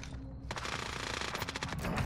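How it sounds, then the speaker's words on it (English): A shooter video game's gunfire comes through as a steady stream of rapid machine-gun shots. It starts abruptly after a quiet moment and stays moderately loud throughout. "Oh, I'm getting shot at."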